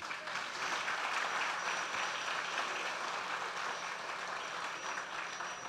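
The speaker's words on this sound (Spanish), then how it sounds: "un fuerte aplauso para ellos" Steady, dense applause from a large crowd fills the whole stretch, honoring Ministry of Education workers at a school inauguration with the Vice President present, with no voices rising above it.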